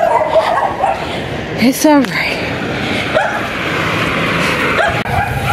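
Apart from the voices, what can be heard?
dog barking and whimpering on a street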